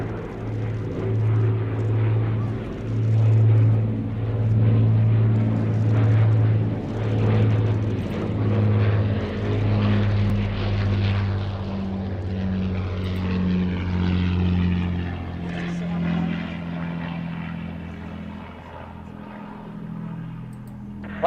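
Avro Lancaster of the Battle of Britain Memorial Flight, its four propeller engines droning loudly and steadily with a deep throbbing hum that slowly shifts in pitch as the bomber passes, no talk over it.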